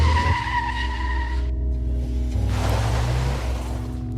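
Car tires skidding loudly across the road with a long, sustained squeal that shifts pitch midway, up close, with an engine rumbling underneath.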